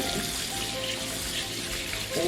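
Tap water runs steadily into a pan of freshly dug potatoes set in a kitchen sink, a close, continuous splashing rush that holds level throughout.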